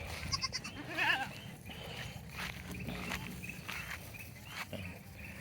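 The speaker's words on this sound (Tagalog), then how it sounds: "Yung ating kambing." A goat bleats once, a short wavering cry, amid rustling and scattered background noises.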